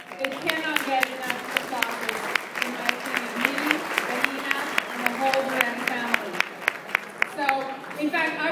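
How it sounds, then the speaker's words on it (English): Applause from a gala crowd at a foundation event, clapping under loud voices and cheering that rise and fall over it, with a few sharp claps punctuating throughout. "So I want to give you my personal round of applause, and everybody please join me."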